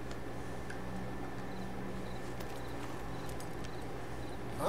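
Steady clip-clop of horse hooves at an even walking rhythm in the video game Red Dead Redemption 2, fairly quiet, with a low ambient hum and faint ticking sounds in the background.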